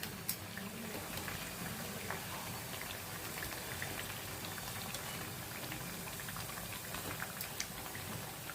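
Raw banana kebabs deep-frying in oil, a dense, even bubbling crackle that runs steadily throughout at a soft, close level.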